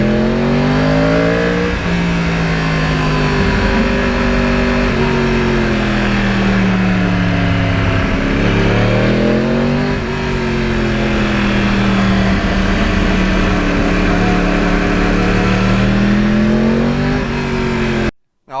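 A Yamaha R1 crossplane superbike revs hard and repeatedly, its engine pitch sweeping up and down through gears in a loud, close, continuous roar that ends abruptly, with no voices.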